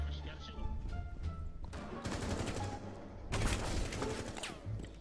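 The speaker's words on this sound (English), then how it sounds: "Gotta shoot him." Bursts of gunfire in Rainbow Six Siege, with rapid automatic volleys and sharp shots in close succession, loudest near the end, over a busy game background.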